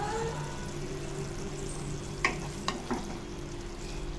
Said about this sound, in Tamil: மிக்ஸ் பண்ணி விட்டுலாம்